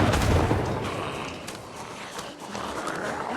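Muffled gunshots and thumps in the zombie survival game Project Zomboid, a few dull shots at moderate distance over a low, steady background rumble.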